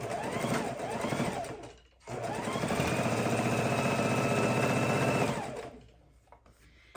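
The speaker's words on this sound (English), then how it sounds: "Bring it to our machine and go ahead and sew corner to corner" A sewing machine stitches corner to corner across a batting-covered soup bowl cozy: a brief steady whir, a short pause, then a longer, louder run of rapid mechanical chatter that winds down and stops.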